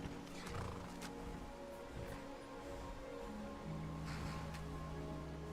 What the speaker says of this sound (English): Man like you needs a war horse